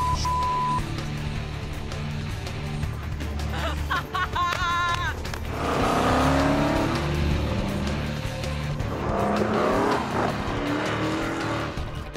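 Cars chase a fleeing vehicle on Los Angeles streets, with engines revving loudly, tires squealing and skidding in sharp bursts midway, and a siren-like tone earlier, all close and intense.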